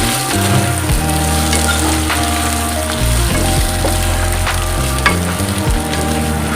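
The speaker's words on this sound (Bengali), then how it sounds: "আগে এটা ভালোভাবে কষিয়ে নেব" Spice masala and fried flat beans sautéing in a hot pan for a fish curry, a loud continuous sizzle and crackle close by, with stirring scrapes and no talking.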